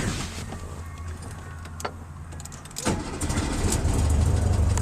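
A car engine cranks briefly and catches, then settles into a steady, fairly loud idle close by, with no talking.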